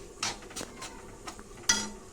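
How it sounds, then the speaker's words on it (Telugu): Raw chicken added to a hot pan for a spicy restaurant-style chicken fry, heard as a few separate clattering and scraping bursts of utensil against pan with a soft frying hiss between them, close and moderately quiet. "ఇదిగోండి ఫ్రై కోసం అనమాట చికెన్ వేస్తున్నా."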